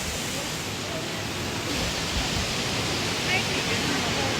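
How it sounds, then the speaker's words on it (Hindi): A waterfall in Jibhi, in the Tirthan Valley of Himachal Pradesh, gives a steady, dense rush of falling water that holds evenly at moderate loudness for a few seconds. "ये है वाटरफॉल"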